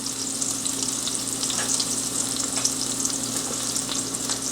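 Chicken nuggets sear in a very hot cast iron pan, giving a steady, close, loud frying sizzle that holds evenly throughout, with no voices.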